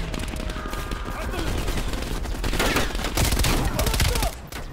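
Dense, rapid gunfire from the video game Call of Duty Black Ops Cold War rattles continuously at close range, loud and sustained with no pauses.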